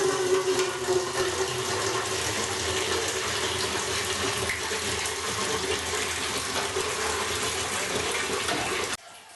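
Water pours and splashes steadily in a Russian banya sauna, a continuous close rushing flow that stops abruptly near the end.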